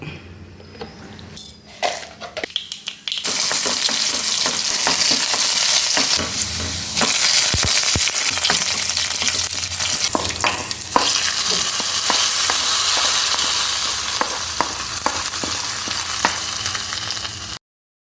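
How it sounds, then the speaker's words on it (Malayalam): Mustard seeds tempering in hot oil for a Kerala ozhichu curry: a few quiet stirs, then from about three seconds a loud, steady sizzle and spatter continues to the end, with occasional sharp pops and no talking. "ഇനി നമുക്ക് കടുക് താളിക്കാം"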